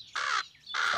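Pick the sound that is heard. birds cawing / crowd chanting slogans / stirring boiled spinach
birds cawing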